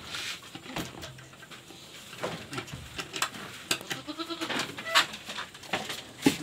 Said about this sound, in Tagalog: Nauuhaw na itong mga kambing natin eh.